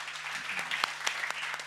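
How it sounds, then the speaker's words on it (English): Fairly quiet applause from a conference audience after a panel discussion on global trade, a thin scatter of claps with a few sharper individual hits, heard briefly and without speech. "Please, a round of applause for a fantastic panel."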